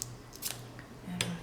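Scissors snipping paper while trimming a sunflower shaker gift box, a few close, crisp cuts at a quiet level over faint background hum.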